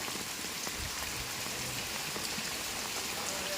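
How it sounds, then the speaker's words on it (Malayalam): Heavy rain pours onto a flooded house courtyard in Kerala, a dense, even hiss of falling water that holds steady throughout with no break. "കണ്ടോ മഴ കണ്ടോ? പെരുമഴയത്ത് വീടിൻ്റെ മുറ്റത്ത് ഞങ്ങൾ വലയിട്ടിരിക്കുക"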